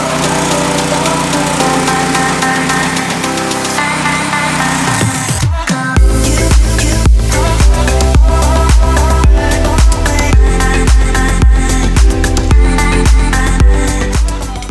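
A small gas engine on a homemade DIY power washer sputters through a pulsing sound before it catches, then runs loud and close with a rhythmic, slightly uneven chug, with no talking.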